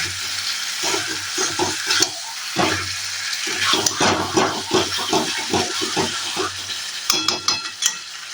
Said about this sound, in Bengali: আমি এখানে পেঁপে আলুটা দিয়ে দিয়েছি, আর এই যে দেখো ওখানে তেল ছাড়তে শুরু করে দিয়েছে